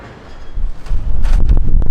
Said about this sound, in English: Woo, it's a bit windy.